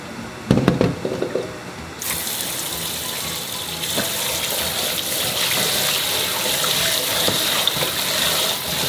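Raw catfish is rinsed under running water, beginning with a few close sloshes and splashes, then a steady loud gush of tap water that continues to the end, with no talking.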